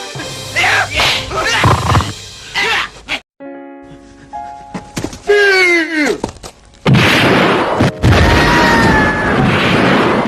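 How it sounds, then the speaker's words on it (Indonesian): Heavy booming cannon blasts and sharp cracks erupt amid a chaotic battle din in a film, with whooshing and rumbling between loud impacts. "Dentuman suara meriam terdengar begitu mengerikan seakan kiamat akan datang"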